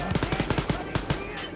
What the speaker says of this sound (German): Irgendwas schießt von der Seite.